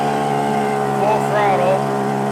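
A YADAO outboard motor runs steadily right after a first-pull start, its engine note rising briefly as some throttle is given, loud and close with a buzzing two-stroke tone.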